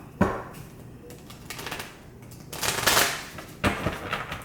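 A tarot deck being shuffled nearby, bursts of rapid riffling flutter with soft taps between them, ending in a sharp snap.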